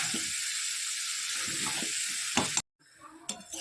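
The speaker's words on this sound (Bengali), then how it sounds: "ভালো করে এটাকে কষাই।" Curry being sautéed in a pan gives a steady loud sizzle with intermittent stirring scrapes, then drops out abruptly before faint clinks and stirring resume.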